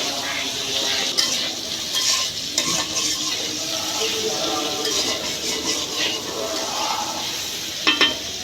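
Taro and eggplant pieces frying in a pan for a hilsa curry, giving a constant close sizzle with light clinks of a utensil against the pan and a couple of sharper knocks.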